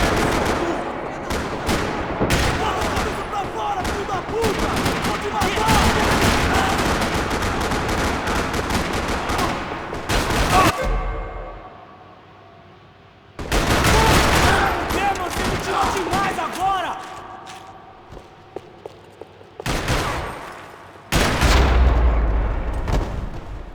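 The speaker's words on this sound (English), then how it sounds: "Another parking lot rattling with gunfire." Heavy gunfire rattles through a parking lot in the video game Max Payne 3, loud automatic bursts and single shots with short pauses, a quieter gap near the middle, and a few isolated shots before the shooting resumes.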